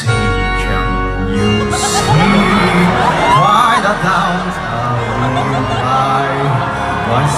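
A large crowd cheers, whoops and shouts loudly at a concert at Crunchyroll Expo 2022, with many overlapping voices yelling continuously at close range.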